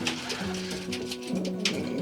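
Several pigeons coo in low, throaty bursts, overlapping close by, with soft rustling and faint fluttering inside a pigeon loft.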